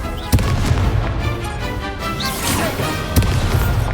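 Hogwarts Legacy spell combat: fiery Confringo and Incendio blasts crack and boom in quick succession, two sharp loud impacts standing out among rumbling bursts, while a player calls out spell names.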